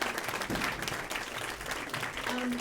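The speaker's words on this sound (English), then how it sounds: "can we give a round of applause to this brilliant panel?" Audience applause for a panel at an affordable housing discussion, a short, fairly faint burst of clapping from a crowd, steady throughout with a little background voice.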